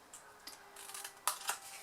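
Scissors snip across the card top of a handmade chocolate box lid, giving a few faint, close crisp cuts with two sharper snips near the end, over a quiet room.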